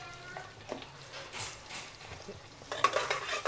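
Onions frying in a pan for chicken biryani while a spoon stirs them, soft sizzling under scraping and clinking of utensil against metal, in a home kitchen.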